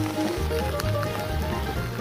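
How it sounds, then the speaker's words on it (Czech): Rain falls steadily during a bicycle ride, a dense, continuous patter and hiss with low road or wind rumble underneath, all close and constant with no talk. "Kurva prší, vole."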